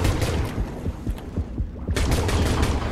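Gunfire in the underwater shark game Depth comes as a dense run of rapid, punchy shots with low thumps, steady and loud all the way through with no talking.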